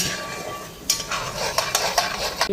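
Masala spices fry in a pan with water added, a steady sizzle broken by several sharp scrapes and clinks of a spoon stirring against the metal, close and fairly loud with no talking.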